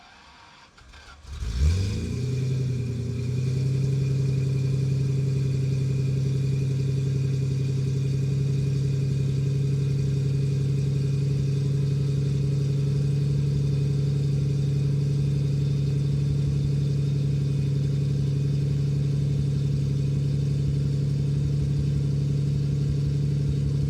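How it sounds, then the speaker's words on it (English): A 1973 Jaguar E-Type Series 3 V12 cranks briefly and catches after sitting unused for over a week, then settles into a steady, smooth idle with a strong low hum that holds unchanged for about twenty seconds. "All right, so I'm gonna go start the car"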